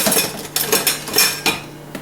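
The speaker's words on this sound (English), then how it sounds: "I might use a whisk here for a second" A metal whisk working stock into a roux in a cooking pan for shrimp étouffée, giving repeated scraping clinks against the pan in quick, uneven bursts, close and fairly loud with no talk.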